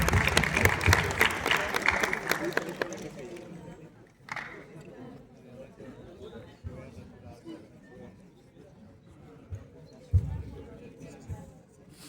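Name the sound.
audience applause at TEDx event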